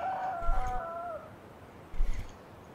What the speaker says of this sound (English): Sounds like we got a very happy rooster.